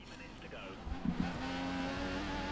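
Formula One cars lap the track during qualifying in the F1 2014 video game, with a steady, high engine whine that climbs in pitch, broken by a couple of brief low thumps.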